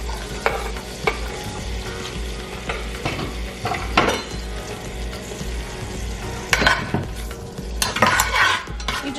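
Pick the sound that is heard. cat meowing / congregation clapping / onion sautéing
onion sautéing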